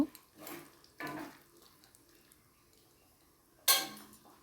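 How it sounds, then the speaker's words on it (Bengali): Ghugni masala being stirred in a kadai, with a few short scraping bursts of a spoon against the pan separated by quiet gaps and one sharper clink near the end. "কড়াইগুলো দিয়ে এবার ভালোভাবে নাড়িয়ে নেব"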